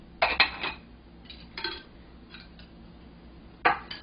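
Dumpling filling of sesame oil and rice wine being stirred in one direction in a bowl, giving a few light utensil clinks and scrapes in short bursts with quiet pauses between.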